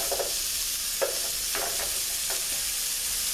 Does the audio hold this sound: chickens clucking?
no